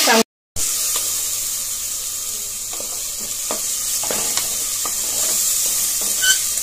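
Ginger garlic paste frying with browned onions in a pot for biryani, a steady soft sizzle with occasional stirring scrapes and light clinks, close by after a brief gap of silence at the start.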